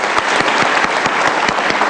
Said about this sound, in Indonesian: Kita kasih tepuk tangan dong untuk Romo.